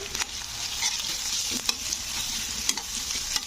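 Curry leaves stirred into browned onions frying in a pan, a close, steady sizzle broken by several sharp scraping strokes of the spatula, with no talk.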